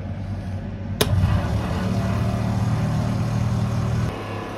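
A water pump runs aboard a narrowboat under renovation, a steady, noisy mechanical hum and rush. It starts abruptly with a sharp click, holds constant for about three seconds, then cuts off. No one speaks.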